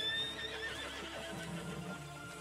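A horse in the Western video game Red Dead Redemption 2 (RedM roleplay server) gives a fairly quiet whinny that wavers and falls, with a few soft hoof clops beneath it and no talking.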